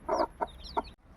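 A chicken clucks close by, three short, quick clucks in a row, fairly soft and alone, with faint high chirps behind.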